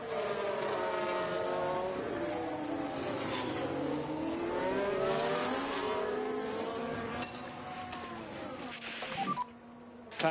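Formula 1 race cars in the F1 Manager 24 game at Albert Park, several engines whining and shifting pitch together as cars overtake, a steady loud layered drone that dips near the end.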